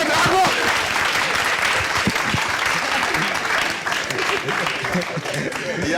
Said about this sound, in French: On va applaudir pour monsieur Ouedraogo.